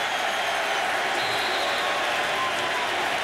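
Football fans cheering in the stadium during a Packers at Eagles game in 2006, a loud continuous crowd roar with a sports broadcast voice over it.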